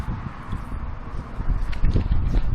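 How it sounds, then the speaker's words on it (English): Strong outdoor wind gusts buffeting the microphone in a rough, low rumble that swells louder toward the end, with faint rustling and no voices. "by golly, it's windy"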